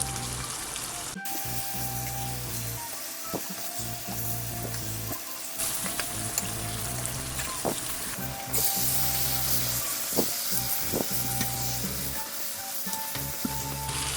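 Chicken chukka simmering in a covered pan, a steady, close sizzle and bubbling that runs throughout with small fluctuations and a few soft clinks.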